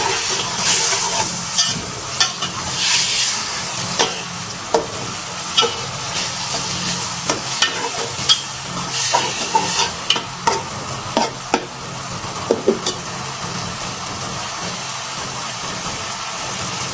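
Chopped tomatoes and onion are stirred and fried in a pan with tomato paste for Bukhari rice with chicken: a steady loud sizzle broken by repeated spoon scrapes and clicks against the pan.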